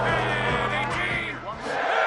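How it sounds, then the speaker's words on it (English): A packed college football stadium crowd roars in a video game, a broad sustained cheer with rising whoops, heard fairly close under a commentator's voice. "This crowd ready to make its presence known."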